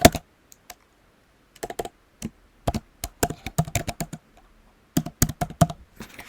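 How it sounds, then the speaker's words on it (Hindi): Someone types on a computer keyboard in short bursts of clicky keystrokes separated by brief pauses, entering an email address; the taps are close and clear, with no talking. "तो आपको वैसे भी कोई भी ईमेल टाइप कर देना है।"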